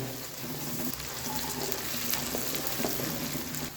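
Chopped onions fry in a pan with turmeric added, giving a continuous close sizzle and crackle with light stirring scrapes.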